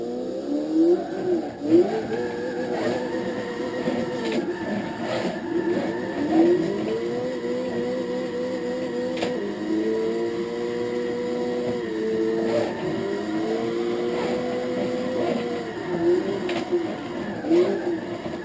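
Gran Turismo 6 car engine revs and drones steadily during a drift test drive on a track, its pitch rising and falling with gear shifts and throttle changes, loud and continuous.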